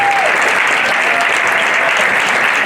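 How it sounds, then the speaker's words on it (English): Dense, steady applause from a large crowd fills the whole stretch, loud and continuous without pause. "What a round of applause for this just fantastic."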